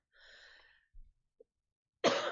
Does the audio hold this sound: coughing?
yes